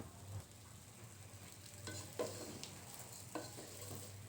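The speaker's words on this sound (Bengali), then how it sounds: "এখন আমি চালটা ভাজতেছি" Rice fries and is stirred in a pan while making chicken biryani: a quiet, steady sizzle broken by a few scraping strokes of the spoon against the pan.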